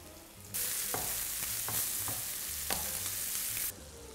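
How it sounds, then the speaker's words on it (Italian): Tomato sauce with 'nduja bubbling and sizzling in a pan over lowered heat, a steady close frying hiss with small pops and occasional stirring clicks, no voices. "Piano, dolcemente si porta avanti la cottura di questo pomodoro."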